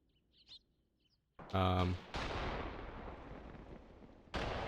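Grenade blasts and gunfire in a war video game set on the Mius Front, a sharp loud burst followed by a long rumbling roar that decays and then kicks up again, with a faint chirp before it.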